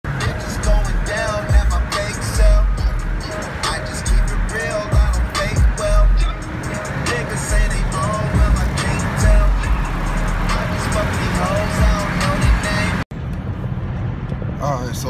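A car drives on a freeway near Anaheim, a steady road and engine roar throughout, with a person talking over it.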